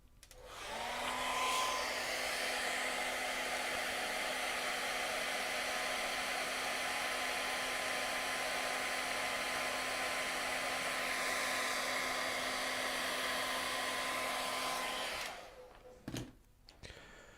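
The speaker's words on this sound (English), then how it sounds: "let's zap him with a hairdryer just to confirm that." A hair dryer blows steadily at close range for about fifteen seconds drying acrylic paint on a canvas, then switches off, followed by a few small handling clicks.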